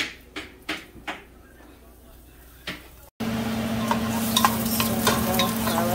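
Garlic frying in a pan while breakfast is cooked: a few sharp utensil taps, then a steady, close, crackling sizzle fills the rest.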